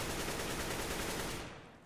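A full AK rifle magazine emptied in Counter-Strike: Global Offensive, a rapid, dense stream of loud automatic shots that tails off abruptly with a short fading echo.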